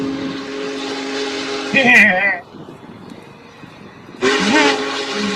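The Big Boy steam locomotive sounds a steady, loud whistle that breaks off briefly and then returns with a second blast.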